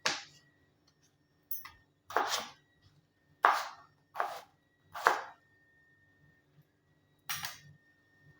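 A knife chops through a washed potato on a board in about seven crisp, separate strokes with short pauses between them, close and fairly quiet.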